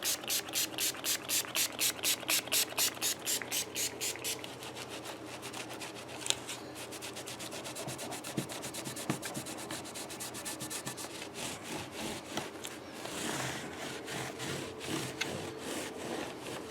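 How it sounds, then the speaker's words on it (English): A scraper working finish off the fretboard of a USA PRS electric guitar, with steady rhythmic rasping strokes, close and fairly quiet, at first regular and then faster and more uneven. "Now I've scraped all the finish off the fretboard"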